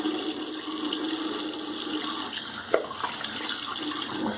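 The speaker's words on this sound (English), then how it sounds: "Do a very light rinse." Water runs steadily from a tap for a few seconds while rinsing during a wet shave, with a brief splash partway through and no talking.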